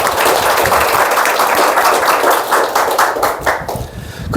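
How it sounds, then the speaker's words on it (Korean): Church congregation applauding for the ocarina members, a loud, dense round of clapping that holds steady, then tapers and thins toward the end. "이 오카리나 멤버들에게 박수 한번 주세요."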